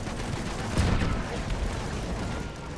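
Gunfire in Battlefield, aimed at a tank crew, rattles as dense, loud, continuous shooting with a heavy thump near the start, all under the noise of battle.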